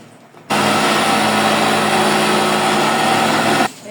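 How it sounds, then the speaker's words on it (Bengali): A kitchen blender grinds lentils and sugar for halwa with a loud, steady high whirring roar that runs for about three seconds, then cuts off abruptly. "দিয়ে আমি সুন্দর করে ব্লেন্ড করে নিব।"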